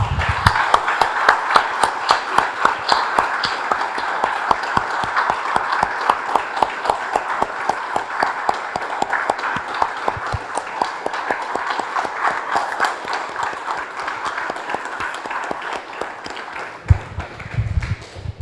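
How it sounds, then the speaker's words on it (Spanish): A church congregation claps in steady, rhythmic unison, strong at first and gradually softening over about eighteen seconds, with a few low thumps near the end. "Damos un aplauso, hermanos, Señor."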